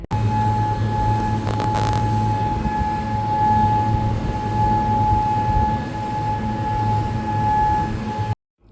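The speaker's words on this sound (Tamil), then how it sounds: "காலையில் எழுந்தோடனே இந்த சவுண்டு தான், சைரன் சவுண்ட் வந்துக்கிட்டே இருந்துச்சு" A siren wails continuously on a Kuwait morning, a steady sustained tone with harmonics over low rumbling background, loud and unbroken until it cuts off near the end.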